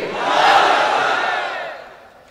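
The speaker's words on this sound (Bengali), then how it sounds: "তাকবীর পড়েন তো দেখি, আল্লাহর নামে পড়েন, লিল্লাহে তাকবীর" A large crowd at an Islamic religious gathering shouts the takbir (Allahu Akbar) in unison, a loud surging roar that peaks quickly and then fades over about two seconds, with no separate speech.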